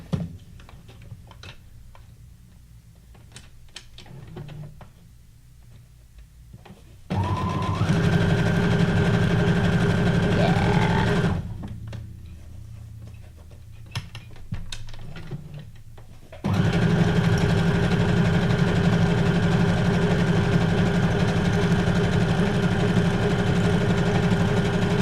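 Sewing machine stitching around the edge of fabric, two long runs of steady, fast mechanical whirring separated by quieter pauses with small clicks and handling sounds.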